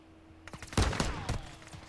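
Several sharp gunshots crack close and loud in Warzone 2, a short uneven flurry of bursts that fades into a faint tail.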